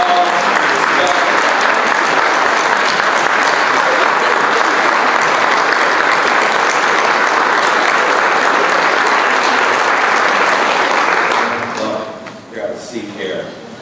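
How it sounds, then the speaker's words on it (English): An audience at a college athletics press conference stands and claps for student athletes. The applause is loud, sustained and close for about eleven seconds, then fades into scattered claps and murmuring voices. "so that we can give you the proper applause and respect?"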